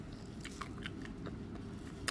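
Crunchy mint ice cream being bitten and chewed, a series of sharp, close crackling crunches spaced irregularly over a quiet background, with a final louder bite near the end.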